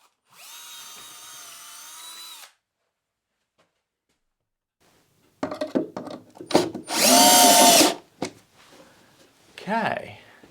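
A power drill boring holes into a wall for plugs to mount a fuse box cover, one short steady whir, then a pause, then clattering handling and a louder burst of drilling, with brief talk mixed in.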